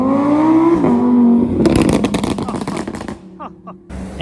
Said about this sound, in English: we should see all the Ferraris rolling back in here